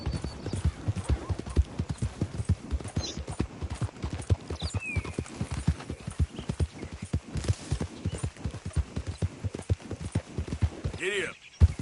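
Horse galloping in a PS4 video game, with a steady rapid drum of hoofbeats running throughout, fairly quiet, and a brief whinny-like sound near the end.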